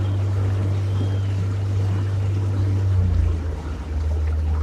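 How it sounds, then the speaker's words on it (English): A feeding boat's motor gives a steady low drone out on open water in Africa, holding level and then dipping slightly near the end, with no voices. "And there's the feeding boat."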